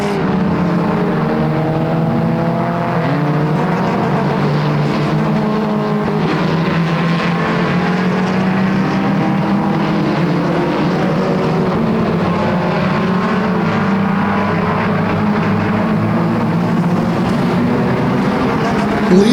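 Pure stock cars racing at Flamboro Speedway, a dense steady engine roar from a pack of cars in a late-race battle, loud and continuous throughout with no clear breaks.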